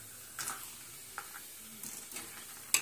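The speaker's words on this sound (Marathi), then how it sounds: "तेल आपलं गरम झालं आहे, यात आता आपल्याला पापड सोडायचे आहेत" Ragi papads frying in hot oil, faint sizzling with scattered spoon scrapes and a sharp clink near the end, quiet and close.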